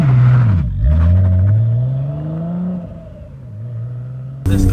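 A 700 BHP Nissan Skyline R33 engine, heard close up, drops briefly and then revs and climbs steadily as the car pulls away. Its tone falls to a lower drone before rising sharply again at the end.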